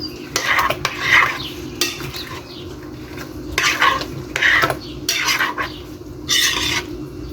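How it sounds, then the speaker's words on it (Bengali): Chopped apple, kiwi and pineapple being tossed together in a bowl, with repeated bursts of wet scraping and utensil clatter at a steady close-up pace and no talking. "দিয়ে দিচ্ছি কিউই, দিয়ে দিচ্ছি পাইনাপেল। সব কিছু একত্রে মিক্সড করে নেব।"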